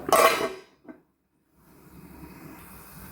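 A lid is set on a pot of mackerel fish curry: a sharp metallic clatter of lid against pot, a softer tap just after, then quiet low kitchen background.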